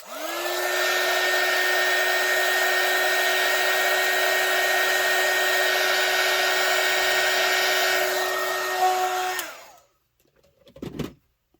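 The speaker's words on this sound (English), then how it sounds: "Okay, and then I gotta get my heat gun, so excuse the noise." A heat gun, used on UV resin, blows with a loud, steady whine and rushing air for about nine seconds, then shuts off abruptly, followed by a brief clatter.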